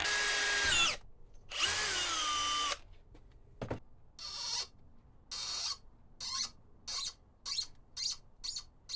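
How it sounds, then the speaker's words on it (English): A power drill drilling out a brass bolt whirs in several bursts, the first two long with the motor pitch dipping as it bites, then a run of short, evenly spaced pulses. "I'm going to try to drill that out and retap it for this size screw"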